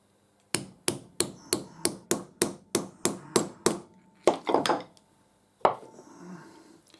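A hammer drives a bearing onto a lathe live center with a Morse taper: about a dozen sharp, evenly spaced metallic blows struck close up, then a short louder flurry of hits and one last knock.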